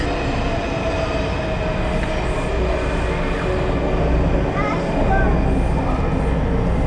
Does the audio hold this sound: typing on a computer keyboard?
no